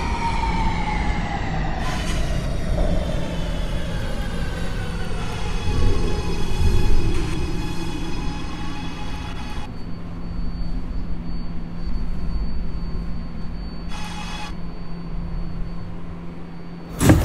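An R211A subway train on the A Express line, running in a train simulator game, drones with a steady low motor hum, broadband track rumble and a falling motor whine, plus brief high tonal bursts, continuous and close with no talk.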